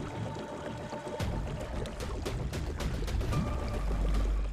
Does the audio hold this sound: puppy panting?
no